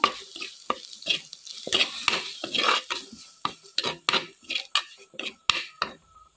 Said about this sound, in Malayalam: മഞ്ഞൾ പൊടി ഇട്ട് കൊടുത്തു ഈ മുളക് പൊടി ഇട്ട് കൊടുക്കുവാണേ ഈ പൊടികളൊക്കെ മൂപ്പിച്ചെടുക്കാം